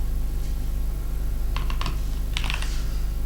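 Typing on a computer keyboard into Notepad: two short bursts of quick, light keystrokes, close by, over a steady low electrical hum.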